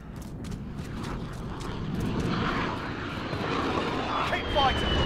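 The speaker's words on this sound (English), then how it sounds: "Friendly VTOL on station for Overwatch." An aircraft engine drones steadily in Call of Duty Modern Warfare as a friendly VTOL flies overhead in a hardcore Domination match on Arklov Peak, a loud continuous roar layered with game noise and scattered clicks.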